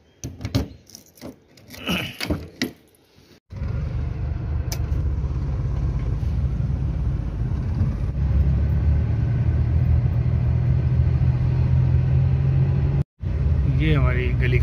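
A Suzuki Cultus car engine rumbles steadily at close range as a low continuous drone for about ten seconds, after a burst of clatter and voices at the start.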